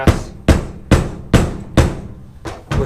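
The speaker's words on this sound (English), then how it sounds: "Gonna try hammering into that brass" A flathead screwdriver is hammered into a stuck, clogged brass idle jet in a Yamaha XJ650 Turbo carburetor: seven sharp, close metallic strikes at a fairly steady rhythm, with no talking.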